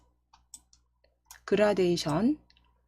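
Computer mouse clicks while working in PowerPoint: a few faint, sparse clicks, followed by a short stretch of speech.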